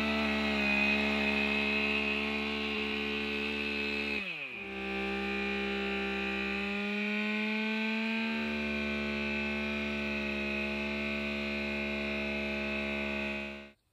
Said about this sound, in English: what we're doing here today is cutting some of these trees and also girdling them